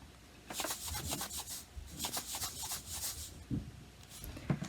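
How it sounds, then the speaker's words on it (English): A homemade maraca made from a peanut butter jar filled with sand, shaken in several bursts of gritty rasping swishes with short pauses between, close and fairly quiet. "The maracas. I have a peanut butter jar and I put sand inside. Listen."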